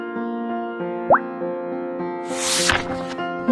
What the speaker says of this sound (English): Just then, his axe fell into the river.